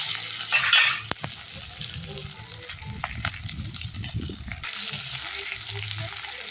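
Large onions fry in a pan on a wood-fire stove, giving a steady close sizzle broken by stirring scrapes and a couple of sharp metallic clinks.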